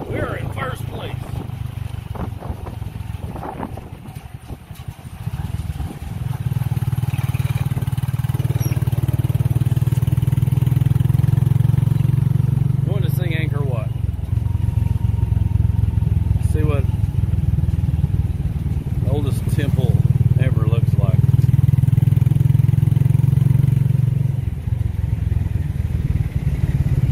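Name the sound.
tuk tuk engines racing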